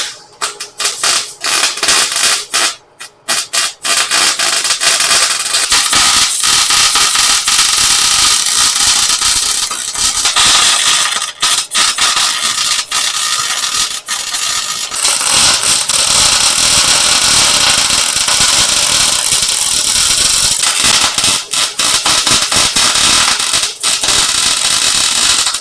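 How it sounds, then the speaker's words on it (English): A drill bores 1¼-inch holes into the steel chassis of an F-1 Ford rat rod, giving a harsh, loud, continuous grinding whine with brief dips where the cut pauses. "I'm just boring some 1¼ inch holes to create some plug wells on the outside of the chassis"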